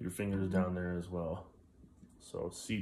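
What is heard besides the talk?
None of the usual background noises is heard.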